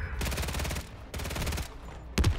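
Rapid pistol fire in the shooter game Call of Duty MW3, two tight bursts of quick successive shots followed by a short louder crack, close and fairly quiet overall, with no talking.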